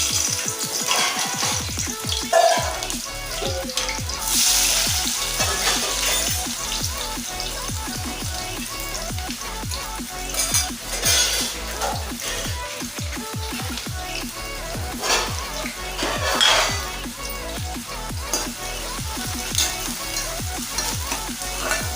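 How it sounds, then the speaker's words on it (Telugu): Green chillies and chopped onions fry in hot oil for a keema curry, giving a steady, close sizzle with crackles and stirring that last the whole clip. No one speaks. "ఉల్లిపాయ పచ్చిమిర్చి బ్రౌన్ కలర్ వచ్చేంత వరకు వేయించుకోవాలండి."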